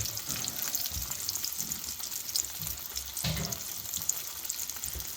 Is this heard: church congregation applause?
no